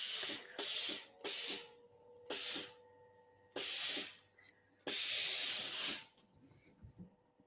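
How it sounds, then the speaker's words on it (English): Repeated bursts of steam from an iron pressing fabric alongside a tailor's clapper, about six loud hissing blasts of uneven length separated by short pauses, nearby and with no talk. "I'm using the tailor's clapper because you combine that with a little steam."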